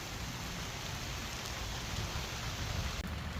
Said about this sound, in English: It started raining out of nowhere.